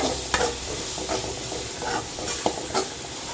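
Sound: onions sautéing in a pan

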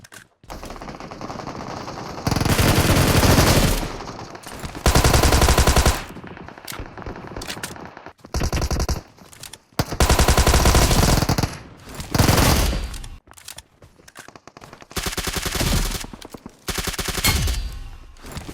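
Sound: VSS rifle gunfire in PUBG Mobile video game

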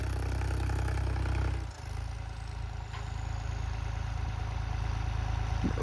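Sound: tractor engine running

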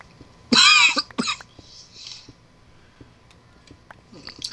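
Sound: cough

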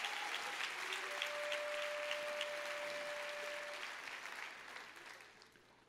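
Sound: church congregation applause

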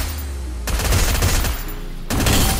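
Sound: gunshots in the video game Free Fire

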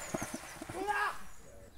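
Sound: horse on a path

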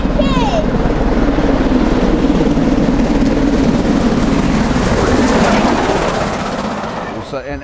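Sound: train passing by

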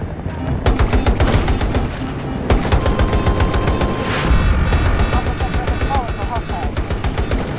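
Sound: gunfire in Battlefield 2042 video game

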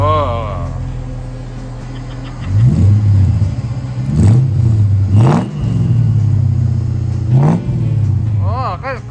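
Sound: car engine started and revving

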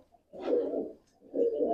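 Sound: pigeons cooing

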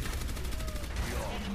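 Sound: gunfire from Orisa in video game Overwatch

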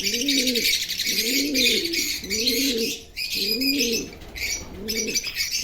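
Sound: male pigeons

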